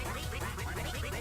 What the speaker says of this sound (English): little bit of quacking.